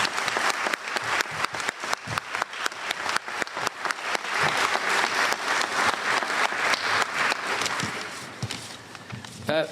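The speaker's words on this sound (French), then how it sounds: "j'aimerais qu'on donne une bonne main d'applaudissement à Jacques" An audience at the opening of an international contemporary art symposium in Baie-Saint-Paul gives Jacques a sustained round of loud, dense applause that runs the whole clip and tapers slightly near the end.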